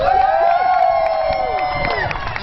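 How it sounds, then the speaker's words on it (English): A crowd at an Occupy-movement protest rally cheers loudly, with whoops and shouts rising over dense, close applause-like noise that fades slightly toward the end. "Give a round of applause for Carl Lindemann."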